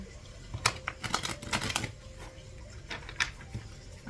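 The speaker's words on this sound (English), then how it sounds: "I'm going to shuffle for a minute" Tarot cards being shuffled, a quiet patter of flicks and riffles arriving in short uneven bursts, close and faint with no talking.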